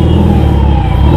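An ambulance siren on a road jammed with traffic, loud and close, a continuous wail over heavy engine rumble for about a second.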